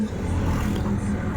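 A multicab passes on a national highway, a steady low engine hum and road rumble, close and loud throughout the brief moment, with no voices.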